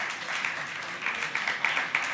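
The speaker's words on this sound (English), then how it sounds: "Big applause, Nestor" Audience at a startup conference panel on cybersecurity applauding a moderator, a steady mid-distance wash of clapping from a modest crowd, swelling slightly toward the end.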